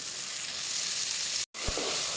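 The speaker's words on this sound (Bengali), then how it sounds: "এই তো আমি চিকেনের জন্য মশলাটা কষিয়ে নিচ্ছি" Spice paste of ginger paste, garlic paste, cumin paste and coriander powder for chicken sizzles loudly and steadily in a pan, broken by a brief dropout before the frying hiss resumes.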